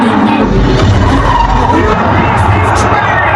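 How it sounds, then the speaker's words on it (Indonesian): A race car crash from a Formula One film: loud, continuous skidding and screeching tires over roaring engine noise, sustained throughout without any clear speech. "Sony disuruh untuk mengalah, namun Sony tentunya tak mau sehingga terjadilah tabrakan"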